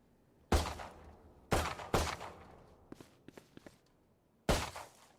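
Sentry turret in Valorant firing in a practice range, sharp loud bursts spaced a second or more apart, with a cluster of lighter clicking impacts between them and quiet gaps.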